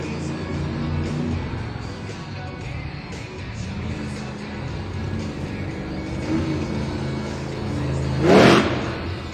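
Jurassic Attack monster truck at a Monster Jam arena event, its big engine droning and building into a loud rev near the end, heard over the steady rumble and murmur of an arena crowd.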